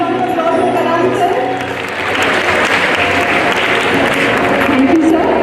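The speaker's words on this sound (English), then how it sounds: "A huge round of applause for Kalam sir." Big loud round of applause at a school Teachers' Day celebration for a staff member, sustained steady clapping from a crowd throughout with a brief dip, filling the room.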